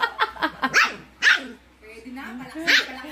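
A puppy lets out a few sharp, high barks mixed with a low growl, close by, while someone talks over it.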